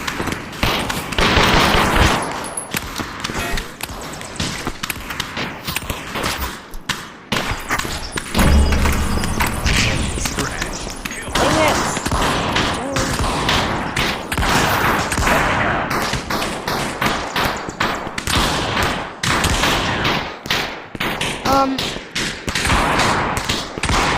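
Rapid bursts of gunfire in the VR shooter game Aim XR, loud dense volleys and thumps repeating through most of the stretch with brief pauses between strings of shots.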